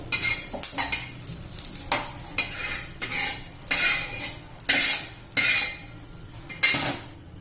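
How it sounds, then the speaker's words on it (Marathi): Ingredients such as garlic cloves and roasted coconut are spooned into a mixer jar for a chutney, with a series of close, sharp metallic clinks and scrapes of utensils against the jar at an uneven pace. "ते पण यात घालून घेऊया मिक्सरच्या भांड्यामध्ये"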